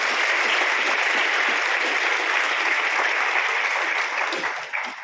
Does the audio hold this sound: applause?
yes